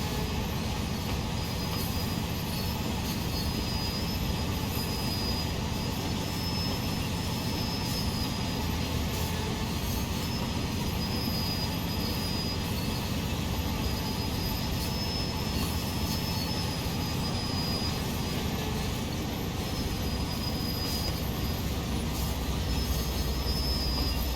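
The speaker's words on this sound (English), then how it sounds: "Notch 4 power braking." A CSX Dash-8 diesel locomotive in notch 4 power braking on Sand Patch gives a steady, loud, continuous roar and drone, with rail and wheel noise running unbroken throughout.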